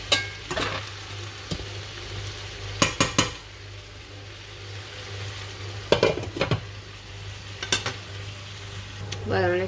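Spring vegetables cooking in a pan, a steady soft sizzle broken by several sharp scraping stirs and clinks of a utensil against the pan, close and clear with no talk.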